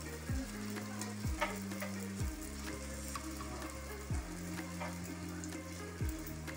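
Achappam, rose-shaped rice batter cookies, sizzle steadily in hot oil, with a faint metallic clink at regular intervals as the mould is dipped.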